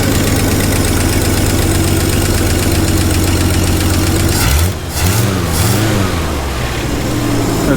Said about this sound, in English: Well, she's idling pretty good.